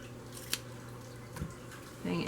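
Scissors snip through the fabric at the top of a jacket zip, giving two or three crisp close cuts in a quiet room, with a brief rustle at the end.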